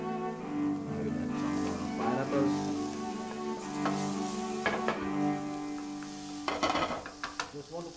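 Pineapple sizzles and fries in a hot pan with oil, a continuous crackling hiss with occasional stirring and clinks of utensils toward the end.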